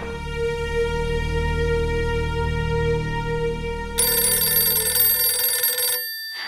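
A home telephone in a Bengali TV serial rings loudly and steadily for several seconds, with the tone shifting higher partway through before the ringing stops. No one talks.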